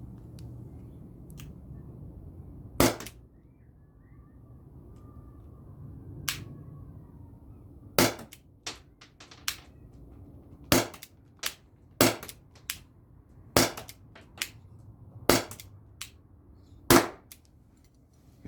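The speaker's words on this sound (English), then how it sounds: "I want to test the ball bearings, the steel ball bearing shots" Gunshots fire steel ball bearing shots at a 10-yard shooting test, heard as a series of about a dozen sharp, loud cracks spaced a second or two apart over quiet outdoor background, with no talking.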